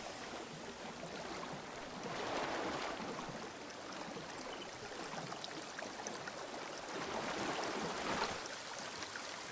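Waterfall in the video game Assassin's Creed Shadows, a steady, moderately faint rush of running water that swells gently in places, with no voices.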